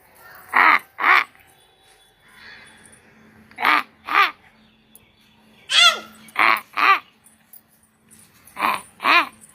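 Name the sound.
crow cawing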